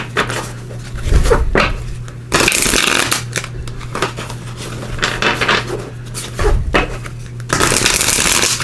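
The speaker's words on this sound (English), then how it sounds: "We'll start off and give these a good shuffle." A deck of reading cards is shuffled by hand at close range, with dry riffling and rubbing bursts repeated over several seconds, each burst followed by quieter handling of the cards.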